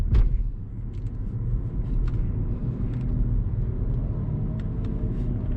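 A car engine rumbles and pulls steadily under throttle on a first lap of the Nürburgring, heard from inside as a continuous low roar with a sharp knock at the start.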